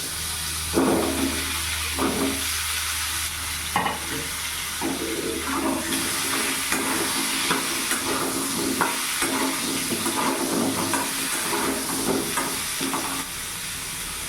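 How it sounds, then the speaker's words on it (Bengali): Cut pumpkin pieces go into hot oil tempered with panch phoron, giving a steady, loud, close sizzle and frying hiss that runs through the whole stretch with occasional stirring scrapes, no talking. "পাঁচ ফোড়নটা ভাজা হয়ে গেছে এরই মধ্যে আমি কেটে রাখা কুমড়োগুলো দিয়ে দেবো"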